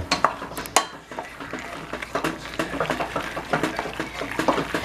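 Mac and cheese is stirred in a bowl for fried mac and cheese balls, giving close, continuous scraping and clattering of a utensil against the bowl in uneven, quick strokes.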